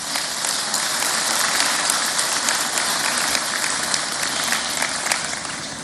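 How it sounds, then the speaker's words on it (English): Steady, dense applause from a large audience at an event in Abuja, Nigeria, many hands clapping at once with no pauses, filling the whole stretch at an even level. "let's hear a round of applause for Abuja and for Nigeria for hosting this event."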